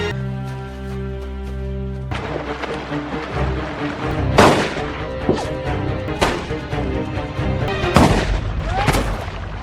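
Gunshots in a film scene ring out as several loud, sharp cracks with booming tails over a musical score, spaced irregularly across the passage.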